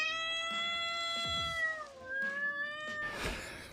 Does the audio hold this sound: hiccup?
no